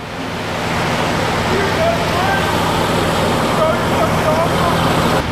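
Trucks pass on a nearby road, producing a broad, steady roar of road noise that swells and holds, with faint shouting voices mixed in.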